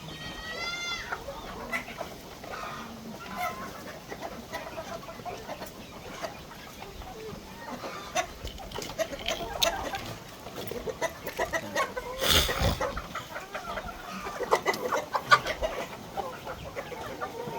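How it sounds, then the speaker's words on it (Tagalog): Hens cluck and murmur continuously in a busy, noisy farmyard, with scattered bird calls and rustling throughout. "Kasama na yung manok, guys, kumakain."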